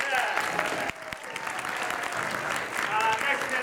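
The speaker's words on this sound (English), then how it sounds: "And of course, a louder applause for Dr." Audience applause for a speaker at a live event, a dense crowd of clapping hands, fairly close and steady, fading slightly midway then swelling again, with voices mixed in.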